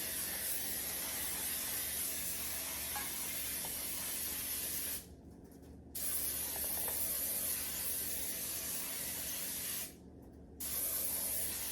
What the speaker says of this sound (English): So I'm just going to go ahead and spray.